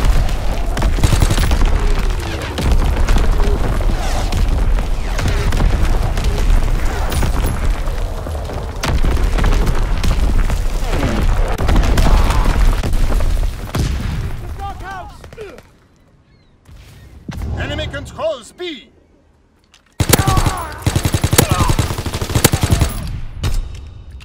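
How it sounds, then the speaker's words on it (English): Enemy artillery and gunfire in a video game: dense, continuous bursts of shots and booms, a brief lull, then the heavy barrage resumes, with game voices shouting over the combat. "Incoming enemy artillery!"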